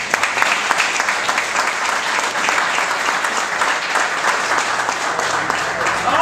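Enthusiastic applause from a crowd honoring fire department leaders at a firehouse dedication, dense steady clapping that carries on throughout.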